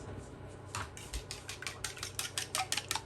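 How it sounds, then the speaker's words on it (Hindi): Egg whites with a pinch of salt and a little oil are whisked briskly in a bowl, a quick rhythm of light metallic clinks close by. "अच्छी तरह इसको फेंट देते हैं।"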